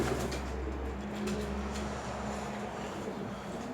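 A roughly six-month-old young racing homer pigeon coos in low, soft, repeated notes close by, over steady background hum, with no one talking.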